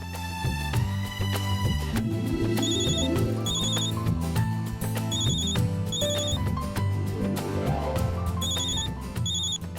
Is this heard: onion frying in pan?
no